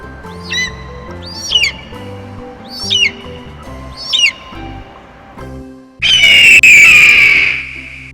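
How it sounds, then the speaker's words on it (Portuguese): A bird of prey, an eagle, gives four short, loud rising squawks spaced evenly apart, then a longer harsh screeching cry at the end, nearby and clear. "As águias são grandes aves caçadoras de rapina"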